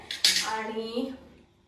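A metal stand is set down inside a pressure cooker with one sharp, close clank, then a bright metallic ring that fades over about a second.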